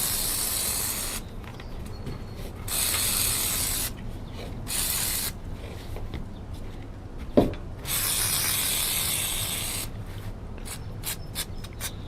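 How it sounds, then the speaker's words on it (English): WD-40 sprayed from an aerosol can onto the spring of a 40-year-old Bullworker X5, in several separate hissing bursts of varying length, with a brief knock partway through. "I'm just gonna spray it down with WD-40 and let it sit for a few minutes."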